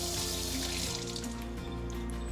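Food for a seafood boil is rinsed under a running kitchen tap, making a steady, loud stream of water that splashes continuously into the sink, close by and with no talking.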